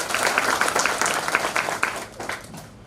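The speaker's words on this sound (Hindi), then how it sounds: "भाई 20 बार ताली तो सबको बजानी पड़ेगी।" An audience claps together after a name is read out at an election-year gathering, a steady patter of many hands filling the whole stretch at moderate loudness, easing slightly toward the end, with no clear voice over it.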